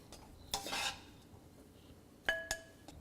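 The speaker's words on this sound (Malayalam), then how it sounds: "ഇത് വേറൊരു പാത്രത്തിലോട്ട് മാറ്റി വയ്ക്കുക." Cooked beef chili is transferred to another vessel, with metal utensils clinking and scraping against the pan in two short clusters of bright, close clatter, with quiet gaps in between.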